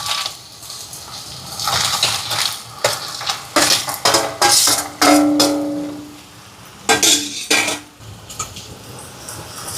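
Crushed crab goes into a pot of rasam with turmeric and is stirred: repeated close metal clanks and scrapes of a spoon against the pot, with sizzling in between, loud and irregular.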